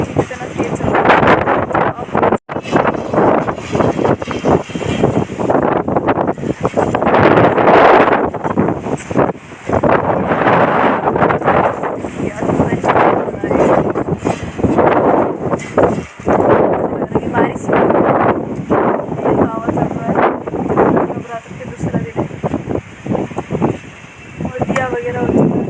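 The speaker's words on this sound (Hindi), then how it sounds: "तेज़ हवा चल रहा है" Steady, loud wind buffets the microphone throughout, with rustling gusts and a voice talking over it.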